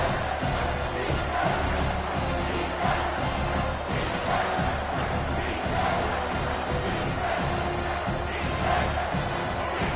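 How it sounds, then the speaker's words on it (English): A football stadium crowd at a Virginia Tech versus Old Dominion game roars loudly and continuously after a big third-down play, a dense wall of cheering that swells and surges throughout. "And if you didn't know this was a big play, the crowd is telling you"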